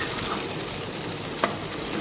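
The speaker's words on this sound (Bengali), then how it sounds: "মাংসর আলু সেদ্ধ করে নিয়েছি, নিয়ে একটু ভাজা ভাজা করে নেব।" Marinated meat and boiled potatoes frying in a pan: a dense, even sizzle and crackle throughout, close up, with one brief clink midway and no speech.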